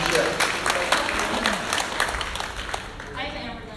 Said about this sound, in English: It's getting one more round of applause.